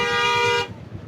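A car horn blares in one sustained honk, loud and close, in a traffic jam at the Khardung La mountain pass, then cuts off, leaving faint background rumble.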